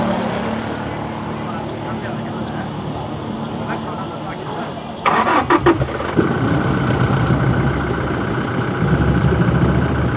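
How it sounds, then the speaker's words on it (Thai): A loud vehicle engine rumbles steadily nearby during a morning house merit-making ceremony. It swells sharply about halfway through while voices talk over it. "ตกใจเบิดด้วยเสียงรถนี่นะสิดังพลึกแท้เนาะ"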